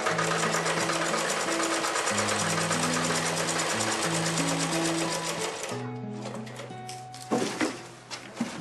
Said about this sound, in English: Sewing is one of Jacinta's best skills. She creates a trendy collared shirt